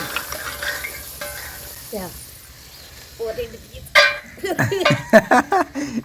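Chickpeas soaked overnight being stirred in a cooking pan: scraping stirs and sharp clinks of a utensil against the pan, growing busier toward the end, with a voice talking over parts of it.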